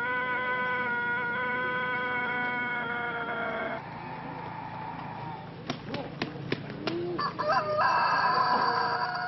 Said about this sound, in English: The totenko is a fine example of a long crowing rooster.